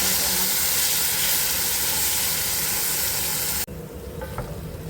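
Coriander and mint paste frying in a pan, a loud steady sizzle and hiss that cuts off abruptly near the end, leaving a quieter background with faint clinks.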